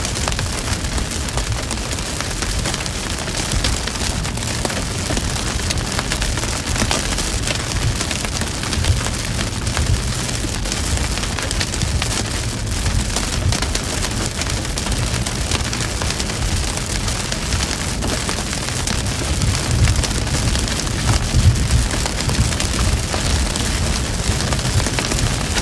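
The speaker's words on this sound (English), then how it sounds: "Got some hail now." Hail and heavy rain pounding down during a severe storm with tornadoes possible, a loud, dense, unbroken roar of drumming impacts that holds steady throughout with no talk.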